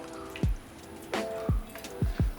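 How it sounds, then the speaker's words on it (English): Water drips from soaked chilies as they are transferred into a mixer jar, several close, distinct wet plops in an uneven rhythm over a faint background hum. "So first take a mixer jar and transfer all the soaked chilies into the jar"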